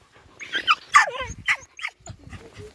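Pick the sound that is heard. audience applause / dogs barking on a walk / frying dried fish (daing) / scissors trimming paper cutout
dogs barking on a walk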